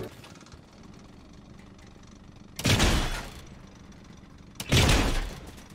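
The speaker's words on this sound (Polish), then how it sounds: "Wciąż na motorze jedziesz." A Fortnite motorbike engine idles with a steady low rumble, then revs up loudly in two strong bursts.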